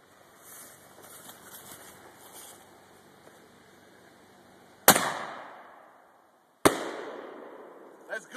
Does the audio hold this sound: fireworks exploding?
yes